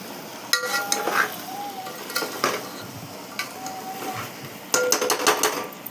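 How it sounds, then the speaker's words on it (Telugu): A spoon stirs taro root curry gently in a metal pot, with intermittent scrapes and clinks against the pan over a soft background sizzle. "జస్ట్ ఇలా కొంచెం నెమ్మదిగా పైకి అయితే మీరు ఇలా కదుపుకోండి, లేదంటే ఇవి విరిగిపోయి మెత్తగా అయిపోతుంది."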